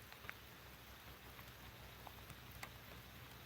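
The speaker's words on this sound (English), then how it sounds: "We're just sitting in the rain." Rain falls outdoors at night during a lull between thunderstorms on a fishing outing, a faint steady hiss with a few scattered drop ticks.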